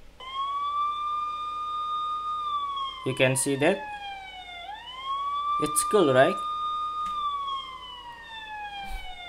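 A loud electronic siren from a phone SOS app wails steadily, its pitch sliding up and down, while a person talks briefly over it twice.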